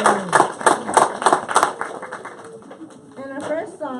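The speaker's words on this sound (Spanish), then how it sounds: "give a big applause for Preschool Bee" An audience applauds at a daycare spring festival recital for a preschool class, a crowd of moderately close claps fading out over several seconds as children's voices and chatter rise beneath them.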